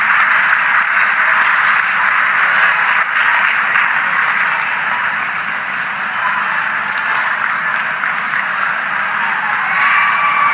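Steady, dense applause from a large audience at an outdoor government ceremony in Bilaspur, a continuous wash of clapping that holds evenly loud for the whole stretch.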